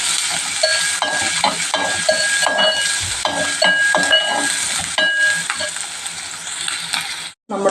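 Chopped onions sauté in a hot pan, a steady sizzle overlaid with frequent clicking scrapes of a stirring utensil, close by and alone, cutting out briefly near the end.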